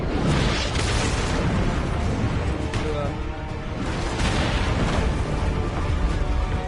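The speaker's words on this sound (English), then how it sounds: "Cannon fire" Cannon fire during a naval fight against boats in the video game Assassin's Creed Revelations: loud, dense booming blasts roll on continuously while someone talks over them.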